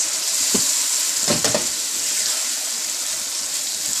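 Soya nuggets dropped into a hot pan for a Punjabi chilli soya dish give a steady, close sizzle of frying with a couple of brief clattering stirs near the start, no voices.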